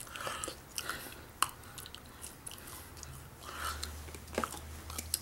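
Close, soft chewing and crunching of greasy restaurant French fries, a quiet run of bites and mouth sounds with a low hum behind.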